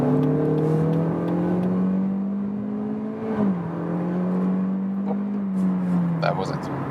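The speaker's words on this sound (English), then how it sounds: "Let me show you some acceleration, 60 kilometers to 100" A 2021 Lexus UX crossover pulls hard from 60 to 100 km/h, its engine drone rising steadily, easing briefly at a gear change, then climbing again, heard from inside the cabin.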